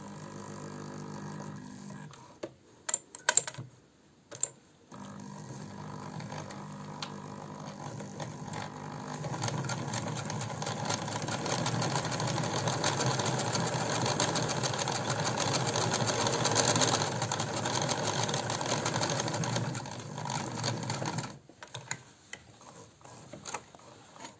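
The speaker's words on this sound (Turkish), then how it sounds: "Evet dikişimizi diktik." A sewing machine stitches a seam in fabric with colored thread, starting with a few short bursts, then running steadily for about fifteen seconds with a fast mechanical whir and rattle before stopping.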